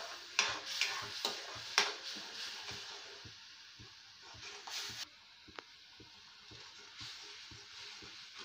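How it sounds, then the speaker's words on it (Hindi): Tomato puree and a prepared paste being stirred in a pan for palak paneer, a faint soft sizzle with repeated light spoon taps and scrapes against the pan, irregular and close. "हम इसको अच्छे से मिक्स कर लेंगे."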